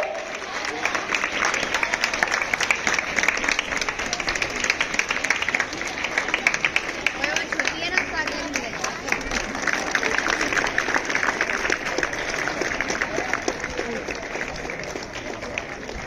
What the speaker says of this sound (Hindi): जोरदार तालियों से मैम का स्वागत करें।